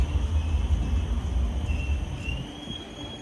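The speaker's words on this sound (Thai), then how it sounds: "อีกหนึ่งนาทีทีเดี๋ยวรถไฟฟ้าเข้ามาแล้ว" An electric train arriving, a steady low rumble of rolling wheels with a thin, high wheel squeal sliding and rising toward the end.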